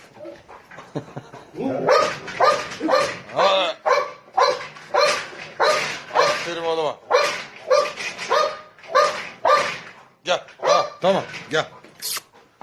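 A Golden Retriever barks repeatedly and loudly at close range, with yips and whimpers mixed in between the barks.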